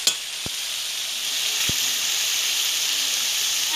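Spice paste sizzles steadily in hot oil while being cooked down for a pangas fish curry, a constant bright frying hiss broken by two sharp spoon or pan taps.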